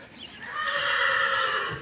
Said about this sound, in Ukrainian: От зараз приїхали такі кобили до моїх жеребців.